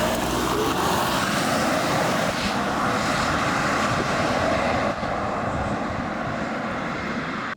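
A 2023 Lexus LX600 SUV rolling along at normal driving pace, a steady, loud broadband cabin roar of engine, tire and wind noise that holds constant throughout with no talking.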